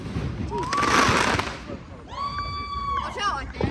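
Fourth of July fireworks in Florida crackle and thud outdoors, with a burst of pops around the middle and scattered bangs later, while people talk over them and a whistling shell rises toward the end.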